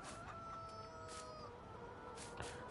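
Chickens cluck softly in the Farming Simulator 19 video game, brief faint calls over a steady background ambience, with no talk.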